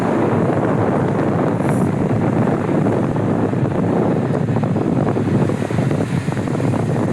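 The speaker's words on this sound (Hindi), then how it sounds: "चिल्ड हवा चल रही है इस टाइम पे" Chilly mountain wind blows hard against the microphone near a river on the way to Badrinath, a loud, continuous roar throughout with no talking.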